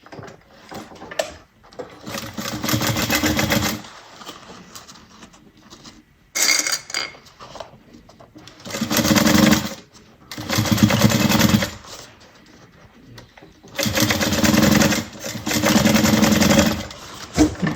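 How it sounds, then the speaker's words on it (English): A sewing machine stitches a half-inch seam on a fabric bag in several loud, sustained bursts of rapid mechanical whirring, separated by short pauses. "I'm gonna sew this at a 1/2 inch"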